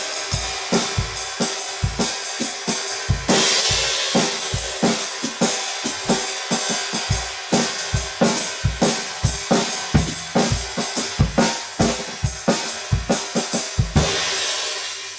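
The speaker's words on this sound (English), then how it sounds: "so we're finalizing the design of the lunar crash." A Zildjian Lunar Crash prototype cymbal, over-hammered with craters and three rivets, is played in a drum groove: trashy, sizzling washes and crashes over steady, punchy kick and snare hits, close and loud with no talking.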